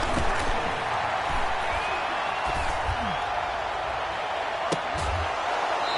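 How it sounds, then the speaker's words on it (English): A football stadium crowd roars steadily ahead of a big third down late in a close game, a dense wash of cheering with a few sharp whoops and thuds rising above it, no one speaking over it. "The crowd getting into it as we come up on a big 3rd down."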